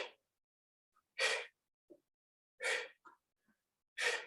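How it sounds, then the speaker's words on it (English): Heavy breathing during a dumbbell workout, with forceful exhales roughly every one and a half seconds and faint short inhales between, close and isolated against silence. "I hope you can hear my breathing. I'm exhaling as I pull down and lift my knee."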